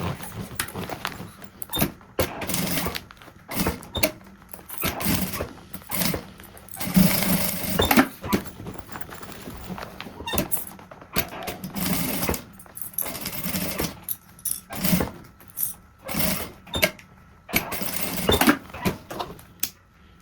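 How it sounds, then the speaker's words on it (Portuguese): A sewing machine runs in bursts of stitching as a closing seam is sewn on a fabric necessaire with a clear window, motor whirring in irregular start-stop runs, close and fairly loud, with no talk. "Passar uma costura fechando."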